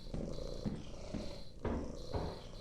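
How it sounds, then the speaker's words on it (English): Maxwell the cat purring in the game Lethal Company, a steady low rumbling purr with rhythmic swells about every half second, close and continuous under faint game ambience. "But just listen to them purrs."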